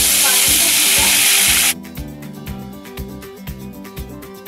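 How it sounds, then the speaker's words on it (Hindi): Garlic hits hot, smoking mustard oil with a loud, close hiss that lasts a couple of seconds, then drops to a much quieter bubbling crackle. "इसमें मैं डालूंगी थोड़ा सा गार्लिक का"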